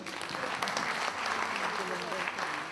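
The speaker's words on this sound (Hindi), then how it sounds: "इनके लिए तालियां बजाइए।" An audience claps and applauds together for a few seconds, a dense, even spread of clapping with a faint crowd murmur underneath.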